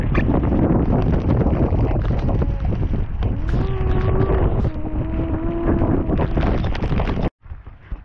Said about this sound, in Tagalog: grabe mga master, binabagyo na kami